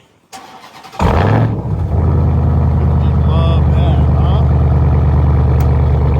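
A large truck engine starts up and settles into a loud, steady rumbling idle, with someone speaking briefly over it.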